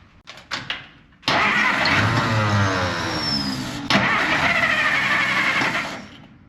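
A 1955 Plymouth engine cranks briefly, then catches and runs at a steady, loud idle close by, with a slight surge partway through and no talking.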